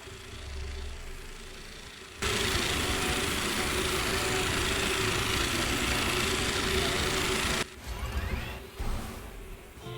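A steady mechanical whirring from the reloading wind-up of a stun gun in the video game Let It Die. It runs loud and unbroken for several seconds, then cuts off, with a few quieter rustles after.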